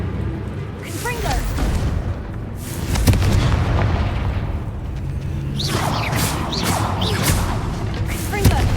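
Repeated Confringo fire spells burst in Hogwarts Legacy combat, loud booming explosions with whooshes and crashing debris in a busy, continuous battle mix.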